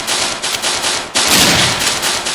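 Rapid bursts of automatic gunfire crack out loud and close in a special forces shooting video game, with dense repeated shots forming a continuous stuttering barrage.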